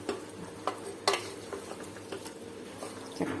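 Chicken and spinach pulao being stirred in a pan, with scattered scraping clicks of the spoon over a soft steady sizzle, close and fairly quiet, no talking.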